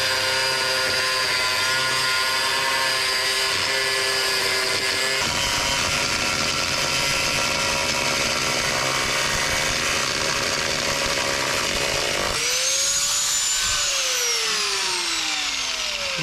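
A power tool whines steadily at close range during a race car engine build, its pitch shifting partway through, then revving down and winding up again near the end.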